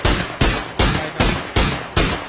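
Gunfire in a shooter video game: six evenly spaced loud single shots, each with a sharp attack and a short decaying tail, close and with no talk over them.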